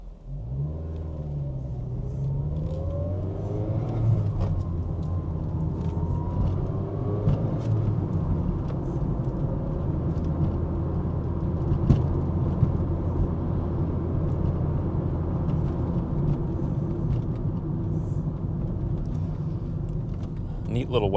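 A small wagon-bodied car with about 87,000 km on it drives along a road, producing a steady, close engine and road rumble that continues throughout, with talking over it.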